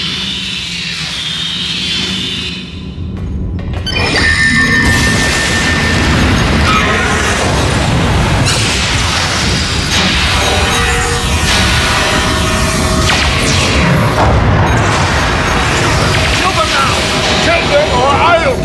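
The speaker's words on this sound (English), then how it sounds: "Weapons at highest setting. Open fire!" Starship weapons fire and explosions in the Star Trek Online video game: heavy booms, bursts and crashing blasts roll on continuously and loudly after a short lead-in, with voices talking over the battle.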